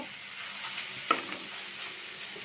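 Shrimp in a fried spice paste sizzle quietly in a pan, a soft continuous hiss with one sharp scrape of stirring near the middle, close and without talk.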